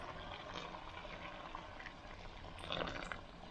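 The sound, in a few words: boiled water from a kettle poured over chicken in a pot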